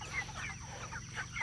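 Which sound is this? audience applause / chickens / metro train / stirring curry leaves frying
chickens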